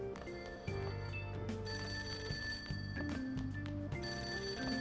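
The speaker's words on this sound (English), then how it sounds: "That ringing sound isn't coming from my cell phone." A telephone rings downstairs in the Persona 5 video game, its repeating electronic tones sounding in a steady rhythmic pattern with game music underneath and no talking.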